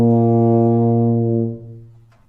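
A tuba playing a scale: deep, sustained brass tones, rich in harmonics and held steady and loud before fading out, played alone with no talking.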